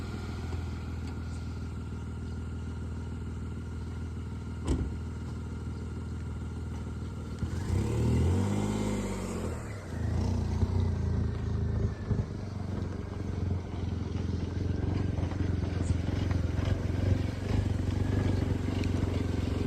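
A vehicle engine runs along a village road between Sarole Thadi and Nandur in Niphad taluka, a steady low rumble with a louder pass around the middle and rattling clatter, continuing to the end.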